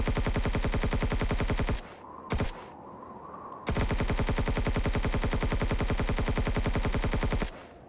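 Rapid automatic gunfire in the sci-fi survival game Empyrion Galactic Survival, loud sustained bursts of fast even shots broken by a short pause with one brief burst, then resuming at length.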